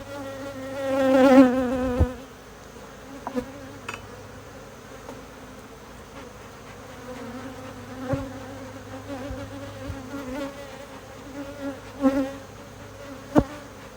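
Honey bees buzz around an open hive: a close pass swells loudly at the start, then a steady insect hum continues with more individual bees zipping near and away, with no speech.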